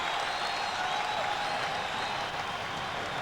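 Crowd noise at a 1990-91 NBA basketball game between the Golden State Warriors and Detroit Pistons, a continuous loud roar of cheering and applause with no pauses.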